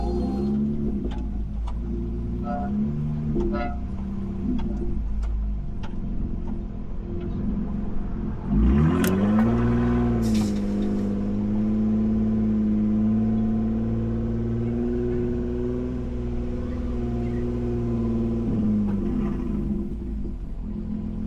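A car in first gear on beach sand idles with a low rumble, then revs up with a rising engine note that holds as a steady drone before easing off, no talk.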